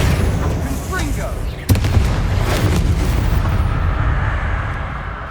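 A Confringo fire spell exploding against a spider in Hogwarts Legacy, a sharp loud blast near the middle within rumbling combat noise, with a voice speaking over it.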